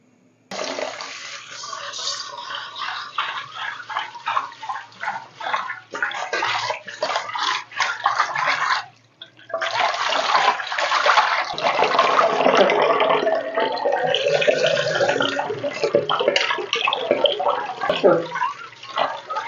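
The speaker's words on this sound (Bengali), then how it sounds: "চাল ডালগুলা একটু ভালো করে পরিষ্কার করে ধুয়ে নেই" Rice and lentils being rinsed in water for khichuri, cooked for a sick patient; steady splashing and running water continues almost throughout, loud and close, with a brief pause midway.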